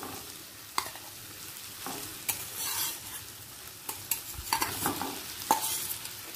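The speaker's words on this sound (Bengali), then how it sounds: "ডিমটা দিয়ে একটু কষিয়ে নেব পেঁয়াজের সাথে।" Fried boiled eggs stir-fried in a spiced onion and yogurt masala for egg rezala, a low steady sizzle broken by scattered scrapes and taps of a spatula against the pan.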